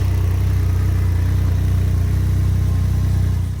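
A 2022 Can-Am Ryker 900 engine idles steadily while warming up, a close, even low-pitched throb that holds constant before easing off at the very end.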